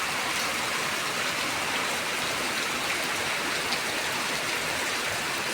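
Heavy rain pours steadily during a rainy-season storm, a dense, continuous hiss of drops on surfaces that stays loud and even throughout, with no voices.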